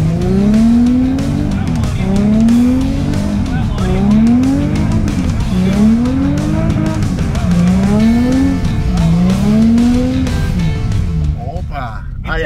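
A car accelerating hard at full throttle on a wet, slippery practice track, its engine rising in repeated loud sweeps as it shifts and revs, with tires skidding and squealing throughout.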